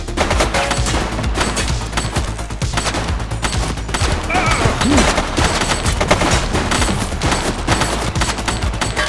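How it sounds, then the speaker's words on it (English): Gunfire in the police video game The Precinct, loud dense bursts of rapid shots and automatic fire rattling without pause, with effects layered underneath. "She's shooting!"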